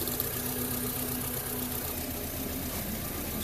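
A 2005 Mini Cooper engine idles with a misfire on cylinder 3, giving a steady, close mechanical hum with a low, even drone that runs unbroken throughout.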